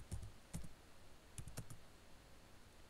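A place name is typed on a computer keyboard: a few scattered clusters of quick, soft keystrokes with short pauses between them, faint and close in a quiet room.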